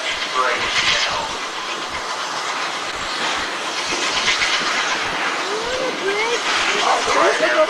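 A passenger train rolls slowly across a high railway bridge about 100 feet above a riverbed in Colorado, giving a steady rumbling hiss with faint wheel clicks, while a guide's amplified voice talks over it.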